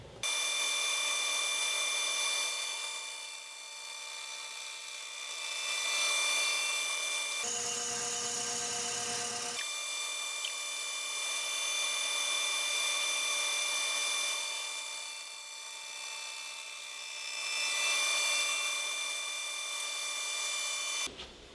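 An Accu-Slice saw slices thin discs from a segmented, glued wood piece with a sustained whirring drone that swells and fades over several passes, briefly dropping to a different tone partway through.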